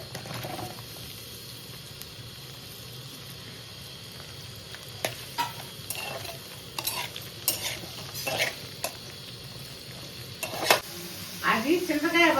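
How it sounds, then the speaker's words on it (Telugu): Spices for a tamarind chutney temper in hot oil, a soft steady sizzle punctuated by scattered spoon clinks and scrapes against the pan, growing busier and louder toward the end with faint voices in the background. "ఇది చింతకాయ పచ్చడి తిరగమాత పెట్టండి."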